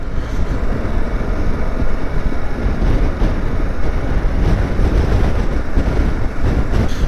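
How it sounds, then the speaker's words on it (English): Steady, loud wind buffeting a rider's helmet during a winter motorcycle ride through snowy Derbyshire, a continuous broadband roar that stays constant throughout with no pauses. "the wind's picking up as well"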